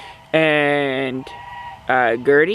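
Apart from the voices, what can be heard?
white Chinese geese honking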